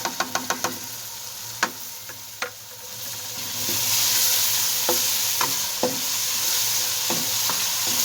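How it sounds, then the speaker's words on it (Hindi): Spices, tomato, onion, and ginger-garlic paste sizzle and fry in a pan for aloo palak (spinach and potato curry) with a steady hiss, punctuated by sharp metallic clinks and scrapes of stirring, the sizzle swelling louder midway. "बाकी मसाले को भी हम 1 मिनट तक और इसको हम भून लेंगे"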